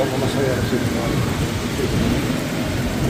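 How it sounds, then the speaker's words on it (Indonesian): Steady heavy rain during a thunderstorm with strong wind in Mecca, a low, rolling thunder rumble under it, and a voice chanting softly through the downpour. "kabut tebal, angin kencang disertai juga dengan petir"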